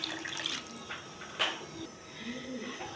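Plain water poured from a glass into a cooking pot for mutton yakhni pulao, a steady splashing pour close by that swells and fades over a few seconds.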